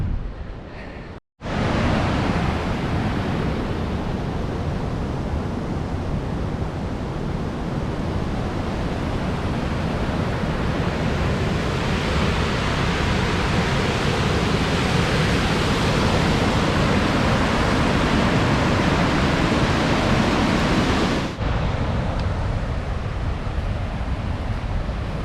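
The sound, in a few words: waterfall rushing water on Forks of the Credit hike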